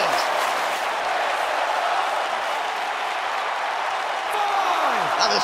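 Wrestling arena crowd at a WWE SmackDown Live event roaring and applauding steadily throughout, a dense continuous wash of cheers with a brief whistle near the end, no talk over it.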